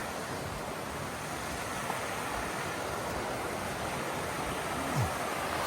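Water spills down a river embankment, a steady broad rushing roar heard from a short distance with no talking.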